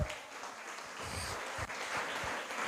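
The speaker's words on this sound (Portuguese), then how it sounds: "Pode aplaudir ao Senhor" Church congregation applauding during a Pentecostal-style sermon, a steady wash of many hands clapping at a distance, sustained and fairly faint for a few seconds.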